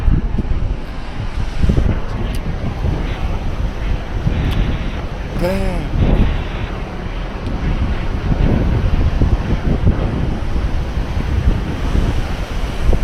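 Ocean waves on a Hawaiian shore, heard as a continuous loud roar of surf with rolling swells and wind buffeting the microphone, plus a brief faint tonal sound in the middle.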